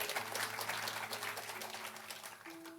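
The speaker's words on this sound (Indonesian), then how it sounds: "Yang setuju berikan tepuk tangan yang paling meriah" A church congregation claps together in steady, moderately loud applause that carries through the room and then tapers off, with a faint sustained tone underneath.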